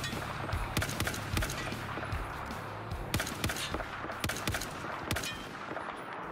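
M39 EMR rifle in Battlefield 4 CQB setup, firing a steady string of sharp single gunshots in close succession, with background battle noise and no talk.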